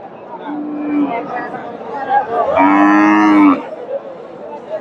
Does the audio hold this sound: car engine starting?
no